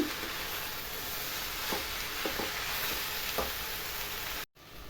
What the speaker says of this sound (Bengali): সামান্য 3-4 মিনিট আমি এভাবেই নাড়িয়ে চাড়িয়ে ভেজে নেব।